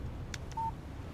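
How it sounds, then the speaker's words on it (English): A single short electronic beep sounds as a phone text message alert in the video game Alan Wake, a clean tone over a low ambient hum, preceded by a couple of faint clicks. "Text message from Barry."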